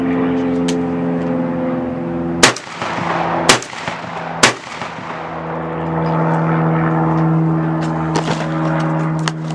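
Benelli Super Black Eagle 3 semi-auto shotgun fired outdoors, three loud sharp blasts about a second apart with brief echoing tails over a droning background.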